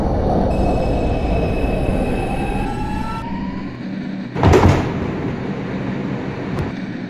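A New York City subway 2 train running on a reroute via the 5 line toward the Bronx, a loud steady rumble of wheels on rail with high squealing tones, then a sharp burst of track noise and clatter.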